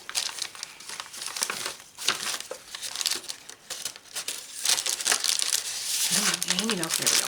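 Paper bag from a journal-making kit crinkling and rustling up close in steady bursts of handling, growing busier toward the end, with a voice talking briefly partway through.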